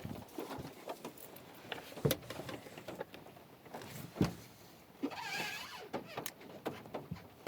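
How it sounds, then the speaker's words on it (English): Rain patters irregularly on a van roof in palm-lined surroundings, scattered soft taps and drips of varying loudness, fairly quiet and close, with no talk. "It's raining."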